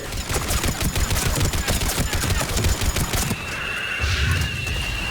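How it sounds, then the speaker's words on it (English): Rapid missile salvo fires in Mass Effect 3 during a gunship assault on a temple, a dense rattling burst of launches up close, easing into a quieter hiss and rumble near the end. "Missiles away. Firing another salvo."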